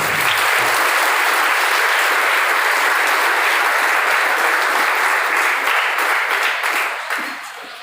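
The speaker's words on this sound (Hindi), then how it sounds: "मेरी तरफ से एक बार जोरदार तालियां" Students at a physiotherapy college give a hearty round of applause for two guests, a loud, sustained roar of many hands that holds steady and eases off slightly at the end.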